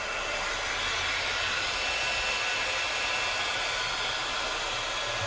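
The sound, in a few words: heat tool blowing air to melt chunky embossing enamel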